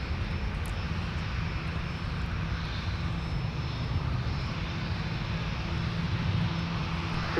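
An Airbus A330-900neo at Minneapolis–Saint Paul airport, a steady broadband engine roar that holds at an even loudness from a moderate distance, with no voices.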